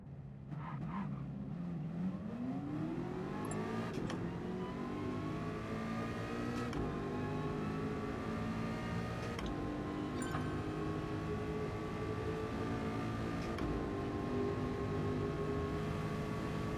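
A race car on intermediate tyres in Gran Turismo Sport roars steadily, its engine note climbing through gears with periodic shifts and brief skids, loud and continuous throughout.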